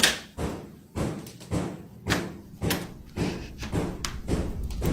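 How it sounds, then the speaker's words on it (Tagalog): Loud knocking on a door, as if trying to break it down, from inside a house: a run of about seven heavy thuds spaced roughly half a second apart, hard and close. "Mas malakas ang kanyang pagkatok na halos gusto nitong sirain ang pintuan"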